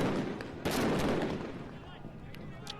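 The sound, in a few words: fireworks and tear gas being fired in a crowd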